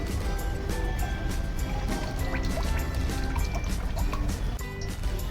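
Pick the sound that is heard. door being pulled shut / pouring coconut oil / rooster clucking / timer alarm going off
pouring coconut oil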